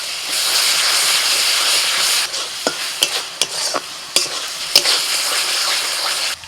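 Onion paste with ginger-garlic paste fries in hot oil for a village-style young goat curry: a close, steady sizzle and hiss, then a few sharp scrapes and clinks of stirring in the pan.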